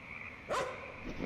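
A dog in the wooded area near Inunaki Tunnel in Japan gives a single short bark, faint and distant against steady background hiss.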